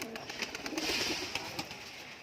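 Pigeons in a backyard loft of colour-matched breeds give soft, low cooing calls close by, with light fluttering and rustling over a steady background.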